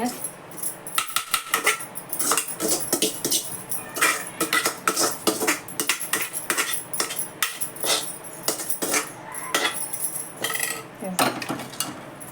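Soybean cutlet mixture being mixed in a bowl with semolina and spices, giving repeated close clinks and scrapes of a utensil against the bowl in irregular bursts throughout, with no talking.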